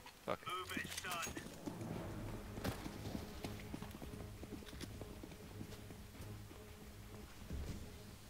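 Horse hooves clip-clop in a video game, a faint, steady walking rhythm of hoofbeats with a low ambient hum and rumbling weather underneath, while a player talks over it.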